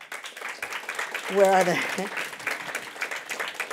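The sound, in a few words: audience applause for Reagan Institute staff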